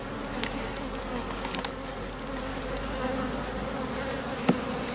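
Honeybees swarm around an open hive during an inspection, a steady dense buzz filling the whole stretch, close and even, with a few faint clicks of frame handling.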